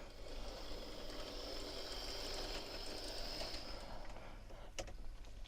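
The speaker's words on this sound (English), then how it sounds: "now that the tram is in motion" A Blackpool Flexity 2 model tram rolls along its track, giving a faint, continuous mechanical whir and rattle with a high motor whine, ending in a short sharp click near the end, no talk.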